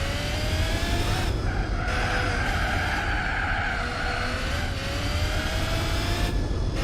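A racing car in Gran Turismo 4 holds a loud, sustained engine whine with shifting revs while its tyres squeal and skid continuously, close and dominant throughout.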